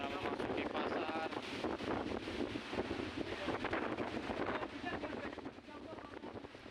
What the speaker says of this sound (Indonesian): Angin kencang dan gelombang tinggi menerjang kota Bau-Bau, Sulawesi Tenggara.